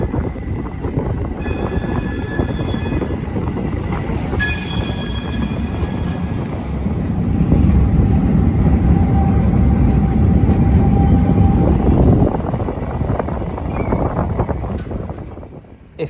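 Porto Metro light rail train crossing an iron bridge high over the water, a loud steady rumble of wheels and rail with wind noise, swelling midway and easing near the end, with brief high squeals early on.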